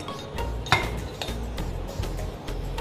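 Soy sauce and Korean chili are stirred together in a bowl, a spoon clinking against the sides with soft scraping and one sharper knock, close and quiet against a steady background hum.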